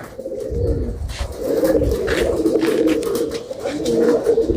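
Racing pigeons coo in repeated low, throaty phrases close by, with a steady rustling and outdoor background noise and no talking.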